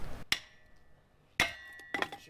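A hammer strikes wood while splitting firewood at a bonfire cottage near Mount Fuji, giving three sharp, close blows with a ringing metallic edge and quiet gaps between them. The last blow lands as a quick double hit.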